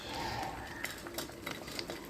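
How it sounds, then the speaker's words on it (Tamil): A spoon scrapes and clinks faintly against a bowl as a homemade red wine soap mixture with tea tree oil is stirred, giving a few quiet clinks over a low background. "ஆட் பண்ணிவிட்டு நல்லா மிக்ஸ் பண்ணி விட்டுருங்க."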